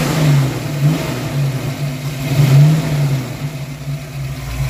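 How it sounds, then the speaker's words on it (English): An older Ford Mustang with a developing engine knock, now more of a small tick, revs loudly and close up, its engine note rising and falling in a few uneven pulses over a steady idle. "we developed an engine knock. It's more like a small tick now. Give it some gas."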